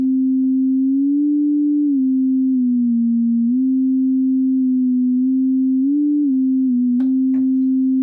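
A pure sine tone generated in PureData hums steadily at a low pitch, bending slightly up and down under a MIDI controller's pitch wheel, alone with a couple of faint clicks near the end.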